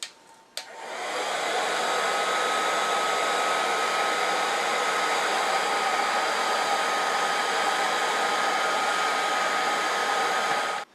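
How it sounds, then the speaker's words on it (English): A hair dryer blows hot air over Grado headphone cups to soften their glue. It switches on with a click, runs as a steady loud whooshing roar for about ten seconds, then cuts off. "So you can actually open it by using just a heat gun, or even a hairdryer would work."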